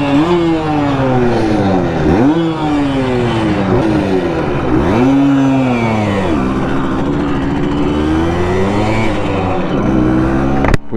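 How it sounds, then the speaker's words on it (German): Simson moped engine running after repair, revved repeatedly in loud, close surges that rise and fall in pitch, with a brief burst at the very end. "Boah, jetzt läuft die aber gut"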